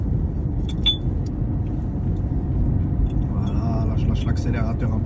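A car engine rumbles steadily while driving through a 50 zone in Villers-le-Bel during a driving test, shifting into third gear, with a person talking over the continuous low drone.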